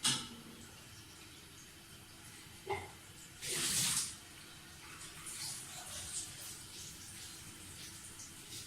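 Water poured by the cupful into a pressure cooker pot with meat for mutton shami kabab, a short splashing rush heard faintly against a quiet kitchen background.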